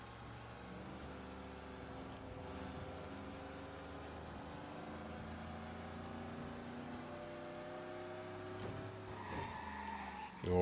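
A turbocharged Rolls Royce driving in Mafia Definitive Edition, its engine humming as a steady, quiet drone whose tone shifts gradually, with a faint tyre noise toward the end.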